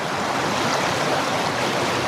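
Steady rushing of a river flowing beside an open-air riverside restaurant in Chiang Mai, a constant broadband wash of water heard up close with no voices over it.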